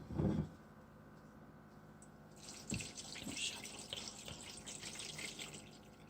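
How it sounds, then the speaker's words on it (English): Water runs steadily into a pot for several seconds after a brief thump, a continuous splashing stream from the tap with a faint hiss. "And then just pour it full."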